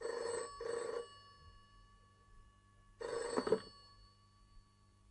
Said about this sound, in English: Lasky received a phone call.